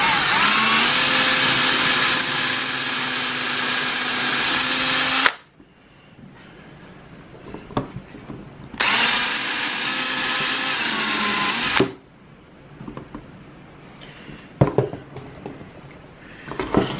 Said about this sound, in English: And then we'll go ahead and drill these out.